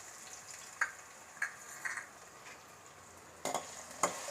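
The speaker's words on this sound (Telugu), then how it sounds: "స్టవ్ లో ఫ్లేమ్లో పెట్టి ఆలు పీసెస్ కొంచెం లైట్ బ్రౌన్ కలర్ వచ్చే వరకు ఇలాగా కలియపెట్టుకుంటూ ఉందాము" Potato pieces frying in a pan are stirred with a spatula, producing five or six distinct scraping clicks over a quiet, steady sizzle.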